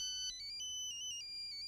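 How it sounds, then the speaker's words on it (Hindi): A phone plays an electronic ringtone melody of bright, stepping tones, clear and fairly near over a faint low background hum, with no speech. "रंभा का फोन है"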